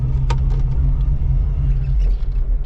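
Steady low engine rumble from a 1985 Oldsmobile Cutlass with a brand new carburetor, heard from inside as it drives around the block, loud and continuous with slight swells.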